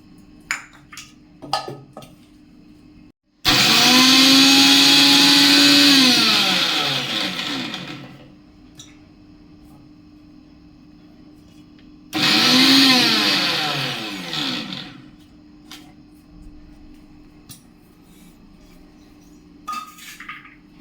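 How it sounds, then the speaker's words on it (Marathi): A kitchen mixer grinder spins ajwain and cumin in two loud bursts, a long whirring run of several seconds and then a shorter one, close by, with quiet clinks before and after and no talk. "हे सगळं ओवा, जिरे मिक्सर मधून फिरवून घेणार आहे"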